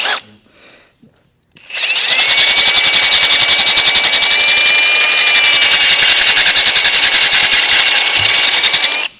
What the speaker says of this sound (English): And we'll drill the other one through the other hole.